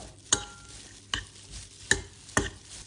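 Spicy raw pork salad with lime juice, fish sauce and toasted rice is mixed by hand, four sharp scraping clinks at regular intervals over a quiet background.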